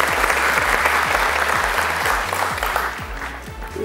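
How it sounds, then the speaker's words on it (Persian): Sustained applause from a studio audience on a Family Feud–style family game show, a dense, steady wash of clapping that stays loud throughout with a slight easing near the end. "تشویق کنیم."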